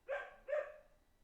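Two quick, fairly quiet dog barks, evenly spaced about half a second apart, with nothing else around them.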